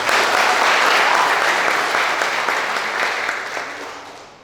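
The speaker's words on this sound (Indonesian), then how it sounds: "Kita beri tepuk tangan untuk Monsinyur." A congregation at a church anniversary gathering in Paribang Baru claps for the Monsignor: loud, dense applause that holds strong, then gradually thins and fades toward the end.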